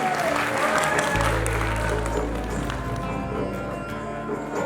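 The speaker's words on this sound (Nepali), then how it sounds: "जोरदार ताली बजाइदिनुहोस् प्लिज" An audience at a national entertainment awards ceremony in Nepal claps loudly and steadily, a dense wash of applause filling the hall after a singer is invited on stage, with a presenter's voice over it.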